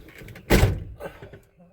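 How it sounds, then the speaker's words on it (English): The door of a 1978 Chevy C10 pickup is shut with a single solid thunk, close and loud, followed by faint background sounds. "I didn't shut my door good, but I'm not going anywhere."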